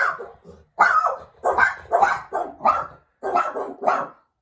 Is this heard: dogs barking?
yes